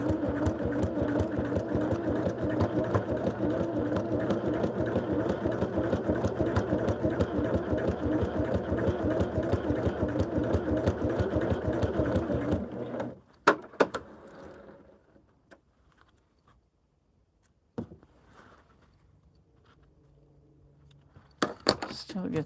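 A sewing machine stitches through a sweatshirt with a rapid, even, motor-driven chatter for about twelve seconds, then stops, leaving a few scattered clicks and handling knocks.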